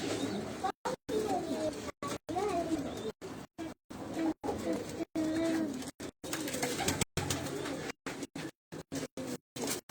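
Pigeons coo in soft, repeated throaty bursts close by, a loft of record-holding flying pigeons, with someone talking over them and the sound cutting in and out.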